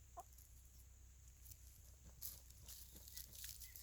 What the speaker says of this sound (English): Now we call these the cinnamon chickens.